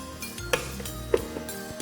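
Metal spoon clinking against a bowl of chocolate and cocoa mixture for energy balls, two sharp clear taps about half a second apart over a low kitchen hum.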